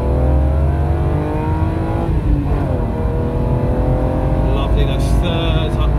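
A BMW E36 M3 3.0 manual coupe revs up and pulls through the gears from second into third past 80, pitch climbing then dropping at each shift, loud and close from inside the car.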